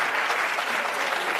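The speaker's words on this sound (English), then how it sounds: "So I would love to have my South African friends and colleagues applaud this situation in the United States." Steady, even applause from a conference audience, filling the whole moment without pause, moderately loud and unbroken by speech.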